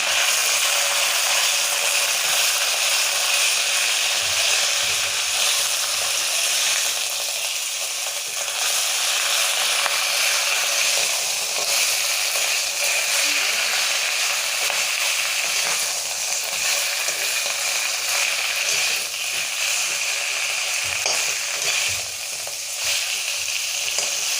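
Onion, garlic and ginger sizzle steadily in hot oil in a pan for a pumpkin-leaf chutney, with occasional scraping stirs and a spatula clicking against the metal, a continuous loud fry and no talking.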